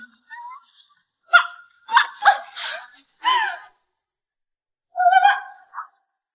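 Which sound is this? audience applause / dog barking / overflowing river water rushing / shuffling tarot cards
dog barking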